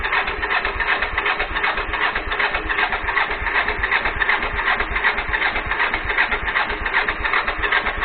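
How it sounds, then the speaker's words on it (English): A starter motor cranks the GPZ 500 engine on a buggy that has not run in ten years, a steady, rough whirring grind with a rapid pulsing beat that continues without catching, fairly loud and close. "Start motor sounds fucking haggard now."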